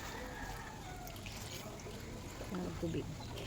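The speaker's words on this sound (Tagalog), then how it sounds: "pagkatapos niyang haluin po ay lagyan po natin ng tubig" Water is poured into mixed pig feed with a food supplement, a steady, soft splashing wash under a person talking nearby.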